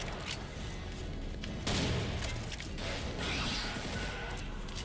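Pistol gunfire in Serious Sam 4, a loud burst of shots over a dense wash of game combat noise, with sharp onsets near the middle and later in the stretch.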